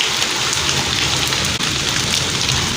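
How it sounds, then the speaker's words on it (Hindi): A dense, loud wash of rain falls hard through the early-morning night during a storm, continuous and even with no speech over it. "बहुत तेज़ बारिश हो रही है।"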